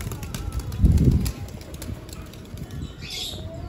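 A pigeon slips from a hand and flies off, giving one loud burst of flapping wings close by, followed by quieter rustling and a faint chirp.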